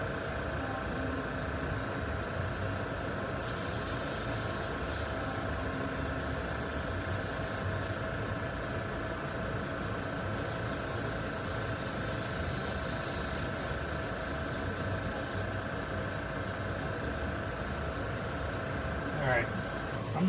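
A GAAHLERI GHAD-68 airbrush sprays lacquer thinner in long, steady bursts of airy hiss, separated by brief pauses, close by with a constant low background hum.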